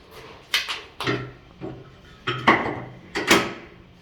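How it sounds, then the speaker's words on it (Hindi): A metal facing cutter being lifted and set into an HDPE pipe welding machine, giving several sharp metallic clanks and knocks in irregular succession, close by, with no talk. "ये कटर जो है ये हम उठा के मशीन में डालेंगे।"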